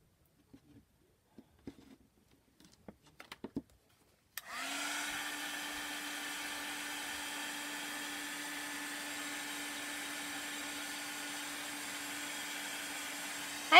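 A few light taps and clicks come first, then a hair dryer switches on abruptly and blows a loud, steady whirring hum onto a chalk-paint wooden craft block, continuing unbroken to the end with no talking.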